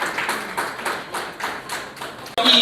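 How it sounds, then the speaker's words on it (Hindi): An audience at a rural Rajasthan ceremony claps to welcome officials and the chairman, with a dense, fairly close applause that rises and dips in waves, then cuts into a brief louder burst at the end. "अध्यक्ष महोदय आ रहे हैं, सभी तालियों से स्वागत कर रहे हैं।"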